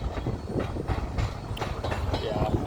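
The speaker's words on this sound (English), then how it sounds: "There goes the train." A CN freight train rolls past close by, a loud continuous rumble with rhythmic clickety-clack from the wheels over the rails.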